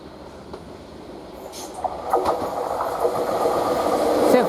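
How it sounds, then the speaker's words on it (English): A Greater Anglia Class 755 train passes through Westerfield station from Lowestoft towards Ipswich, its rumble and faint wheel squeal starting distant and quiet and growing steadily louder as it nears. "now we're seeing a pass-through train from Lowestoft towards the Ipswich, a Great Wrangler service"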